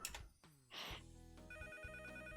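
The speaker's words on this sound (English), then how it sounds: "All of a sudden the house phone starts blaring" A house phone rings in a video game, a bright electronic trill rising out of layered game music and tones, fairly quiet overall.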